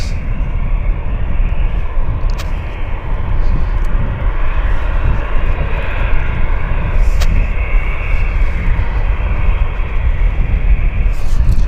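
A Dash 8 Q400 turboprop at Vancouver Airport gives a steady, loud engine roar that holds for the whole stretch, with broadband rumble and a few brief sharp clicks.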